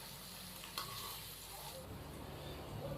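Onions frying to light brown in oil for a degh-style shahi chicken korma, a steady close sizzle with soft hiss and occasional stirring clinks.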